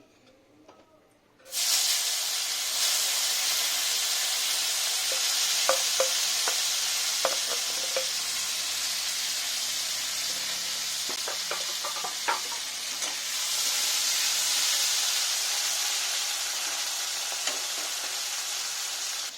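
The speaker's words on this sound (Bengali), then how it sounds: "এবার আমি তেলের মধ্যে টমেটো দিয়ে দিচ্ছি।" Tomatoes frying in hot oil with a black cumin tempering for a Bengali pabda fish curry: after a brief quiet start, a loud steady sizzle sets in and holds, with light spoon clicks as the pan is stirred.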